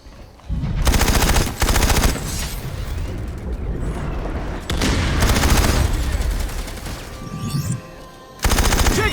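Loud automatic gunfire from a military shooter video game, coming in dense rattling bursts with brief gaps and booming impacts, loud and close throughout.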